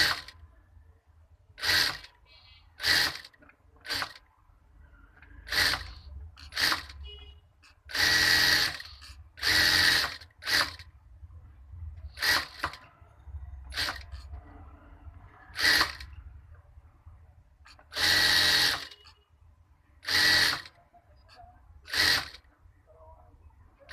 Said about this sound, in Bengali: তারপরে এটা আমি ভাঁজ দিয়ে সেলাই করে নেব।